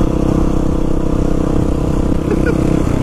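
A motorcycle engine held at steady high revs during a wheelie, a loud, close, continuous droning rumble with no talking.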